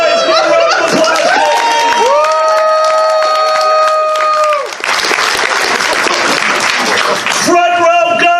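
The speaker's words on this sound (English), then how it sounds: "Guys, give a round of applause." Audience applause and cheering break out during a comedic stage show, loud and close, mixed with sustained sung or tonal voices and crowd noise that swells midway.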